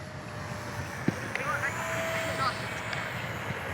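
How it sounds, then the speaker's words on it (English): Strong wind blows outdoors as a steady, loud roaring rush of air buffeting the microphone, with a faint small engine whine and a few light knocks under it. "the wind's really bad now"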